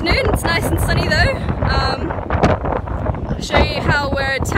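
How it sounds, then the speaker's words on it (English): Strong afternoon wind buffets the microphone outdoors near railway tracks at a coal port protest, a loud, rumbling, gusting roar that swells and eases under a person talking. "Sorry about the wind."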